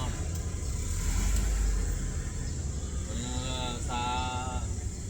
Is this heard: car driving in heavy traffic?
yes